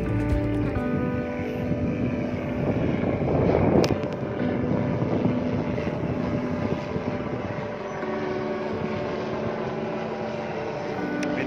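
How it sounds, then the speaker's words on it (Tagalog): Helicopters circling overhead above a residential construction site in Tanza, Cavite, a loud steady rotor drone that swells briefly and stays continuous throughout. "May mga helicopter dun sa taas. Ikot-ikot na po sila."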